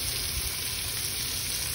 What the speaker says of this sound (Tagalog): I'm going to cook the potatoes and carrots first.